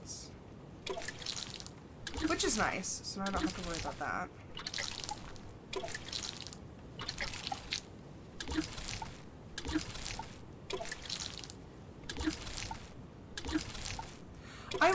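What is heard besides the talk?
watering crops in video game Grimshire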